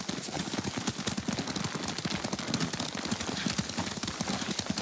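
Steady, rapid clip-clop of horse hooves at a gallop in the video game Ghost of Tsushima, continuous and fairly loud, with no talking.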